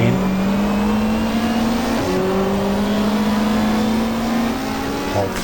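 A race car engine in the GTR2 racing game, an Australian Super Touring car at Mallala, drones steadily in second gear, its pitch climbing smoothly, dipping once at a shift, then climbing again, loud and continuous.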